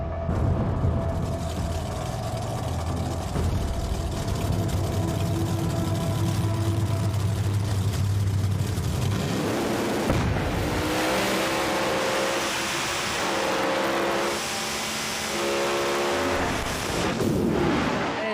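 Drag racing cars on a Street Outlaws no-prep track in Tulsa, a loud, sustained roar of engines at full throttle with crowd and track noise, the tone shifting as the cars run down the strip.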